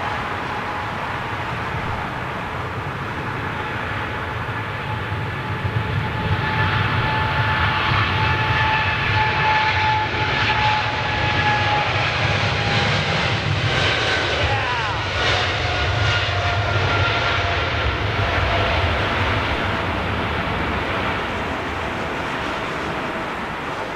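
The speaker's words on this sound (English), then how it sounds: "Big set of G90s powering up on this Air Canada 777, just about to go out" Steady, loud roar of an Air Canada Boeing 777's GE90 jet engines spooling up at Heathrow, with a broad rumble and faint whining tones holding throughout; no voices.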